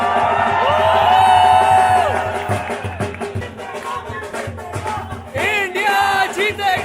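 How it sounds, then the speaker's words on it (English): Indian fans cheer at a cricket match with loud, close crowd roaring, whooping and chanting voices that swell, dip and rise again. "no match is complete without some good old Indian cheering and dhol"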